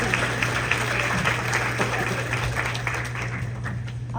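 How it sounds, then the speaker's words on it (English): Audience in a school hall at a junior high event gives a sustained round of applause, steady clapping over a constant low hum from the room. "give her a big round of applause"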